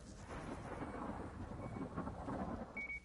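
Rumbling thunder from a storm in the video game Gas Station Simulator, a faint continuous low roll mixed with steady rain noise.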